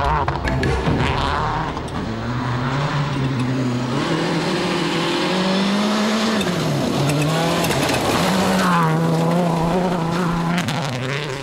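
A 2005 Mitsubishi Lancer WRC rally car races on gravel roads in Sardinia. Its loud engine revs rise and fall through the gears, with gravel spray and close, continuous roaring.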